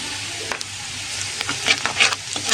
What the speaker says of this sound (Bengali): রসুন কুচি, দিয়ে সুন্দর করে লাল লাল করে ভেজে নেব